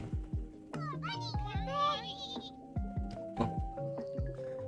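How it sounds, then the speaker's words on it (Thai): Sheep bleating in the Minecraft Pixelmon game, several wavering calls rising over a run of short clicky in-game thuds, with a voice briefly audible. "แกะ"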